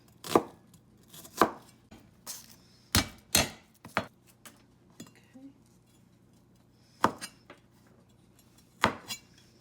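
A knife dices an onion on a cutting board in sharp, separate chops, some in quick pairs, with short pauses between bursts, close and clear.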